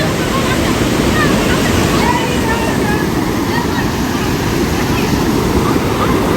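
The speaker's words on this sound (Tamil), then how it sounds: "தண்ணியோட போஸை பாருங்க, அல்டிமேட்டாக இருக்குங்க. சவுண்டு வேற லெவல் கேட்குதுங்க." The Kaveri river near Kallanai rushing past, a loud, dense and unbroken roar of fast-flowing water heard close by.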